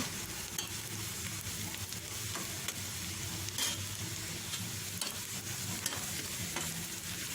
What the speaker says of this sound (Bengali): এখন এটাকে ভালো করে পেঁয়াজটাকে ভাজতে হবে